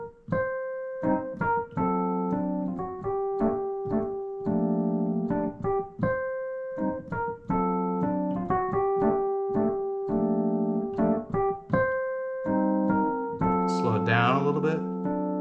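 Solo piano plays a jazz tag ending to a song, repeating a short phrase with sustained chords before a final flourish of high notes.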